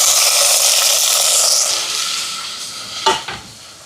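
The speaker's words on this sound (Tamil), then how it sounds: "இதில் வந்து தக்காளி பழம் சேர்ப்போம் ரசத்துக்கு." Chopped tomatoes sizzle in hot oil in a pan while rasam is cooked, with loud frying hiss that settles, followed by a couple of sharp scrapes of a spoon stirring against the pan.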